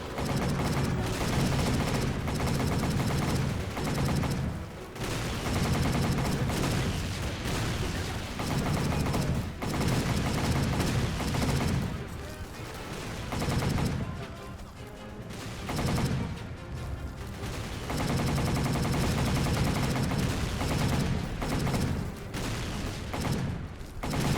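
Video game machine gun firing at enemies during a mission, sustained loud bursts of rapid automatic fire broken by brief pauses, dense and continuous throughout with no talking.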